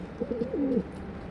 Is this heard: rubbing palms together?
no